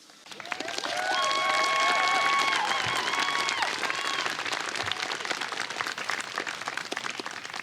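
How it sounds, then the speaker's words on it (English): Sustained applause from a large crowd at a Stanford diploma ceremony, dense steady clapping that swells quickly and carries on loudly throughout, with faint whoops mixed in. "another round of applause for all three of our speakers"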